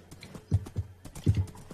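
Horse hooves clip-clop in uneven quick beats in Minecraft, a few close, soft hoof steps with a brief whinny-like touch, fairly quiet.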